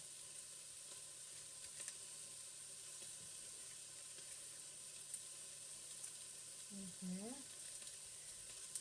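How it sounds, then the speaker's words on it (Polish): Meat searing in a pot for Polish rosół broth gives a steady, quiet sizzle of frying throughout, with a brief clattering stir near the end. "Ja czuję, że mięso już zaczyna się przypiekać"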